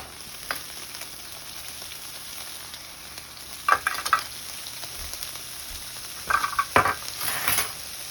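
Broccoli fries in a pan with a soft, steady sizzle, broken by a few clusters of stirring scrapes and light clinks of a utensil against the pan, close and fairly quiet.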